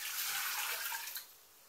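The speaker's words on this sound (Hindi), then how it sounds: "उसके बाद हम इसमें पानी डाल देंगे" Water poured from a jug into a cooking pot of mutton, a steady splashing rush for about a second that then trails off into a quieter trickle.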